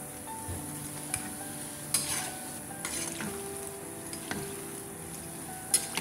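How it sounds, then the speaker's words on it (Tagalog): Luqaimat dough balls bubble and sizzle in oil while a utensil stirs them, a soft continuous fizz broken by light scraping knocks and occasional sharper taps against the pot, no voices. "Dapat laging hinahalo kasi para yung kabuuan niya magkakulay."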